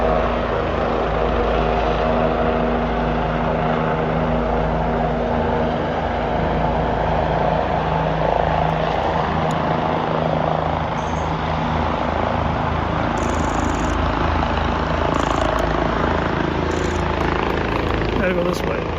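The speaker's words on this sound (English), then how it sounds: "That's a lot of helicopters." Several helicopters fly over at night during an emergency response drill, producing a continuous low rotor rumble and engine drone that stays loud throughout. Voices talk over it.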